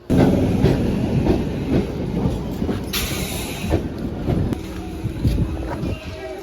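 A passenger train pulling into an Indian station and running on the rails, with a loud rumble, wind buffeting and clickety-clack close by, plus brief squeals and a high hiss.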